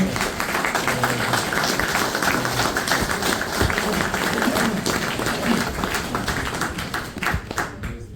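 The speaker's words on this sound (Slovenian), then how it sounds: "En aplavz za Draga Mazija." An audience at a jubilee concert of the hunters' male choir Martin Krpan from Bloke claps steadily for several seconds, a dense, even patter of many hands that fades slightly at the end.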